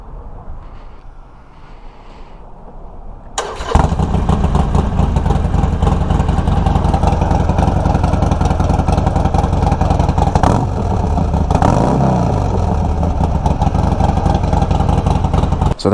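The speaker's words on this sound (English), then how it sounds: "Total cold start here. Let's see how it goes. Let's see how this thing cranks over." A Harley Sportster with a lithium-ion battery starts from cold: a quiet lead-in, then it cranks and fires at about three and a half seconds and settles into a loud, close, loping idle with a couple of brief blips of throttle.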